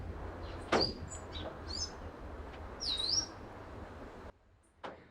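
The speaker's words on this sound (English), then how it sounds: "let's stop and listen to a second to all the bird activity." Several birds call and chirp in short bursts, some whistled and some sharp, over a soft outdoor hiss in a rainforest on the Bogarín Trail, La Fortuna, Costa Rica; no talking.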